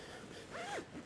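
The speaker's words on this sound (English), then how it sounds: "Zip that up. Make sure you don't get any material caught in your zip." A zipper closes on a paraglider's concertina bag in one quick, quiet rasping pull lasting under a second.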